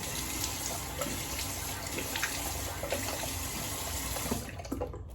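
Tap water runs steadily into a sink while alum is rinsed off a freshly shaved face, a continuous close splashing hiss with small splatters, ending abruptly.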